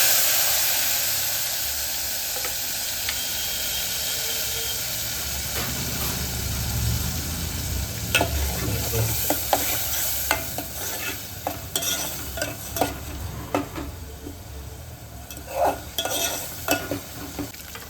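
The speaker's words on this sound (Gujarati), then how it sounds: "તેલ ગરમ થઈ ગયું છે. હવે મરીને જીરું ખાંડેલા નાખી દઈશું." Crushed pepper and cumin, asafoetida and chili paste sizzling in hot oil for Gujarati bhungla bataka, a continuous hiss building as the spices go in, with frequent spatula scrapes and clinks in the later part.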